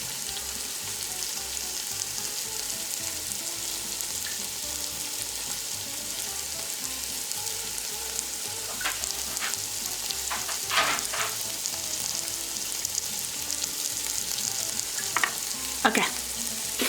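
Pork loin chunk browning in a pan for a crock pot dish, giving a steady close sizzle throughout with a few sharper crackles and pops near the end, no talk.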